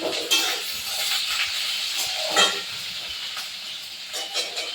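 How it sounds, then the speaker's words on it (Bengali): Chopped onions and green chillies frying in a pan for ghugni, a steady close hiss and sizzle throughout with brief louder bursts, no talk. "লঙ্কা কেটে পেঁয়াজটা ভাজা হচ্ছে"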